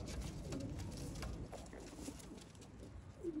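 Pigeons of a champion bloodline cooing softly and fairly far off, repeated low coos over a steady background murmur.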